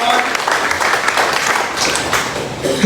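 A church congregation at a Sunday service applauds in a dense, steady wash of clapping from a crowd with voices mixed in, close and loud throughout.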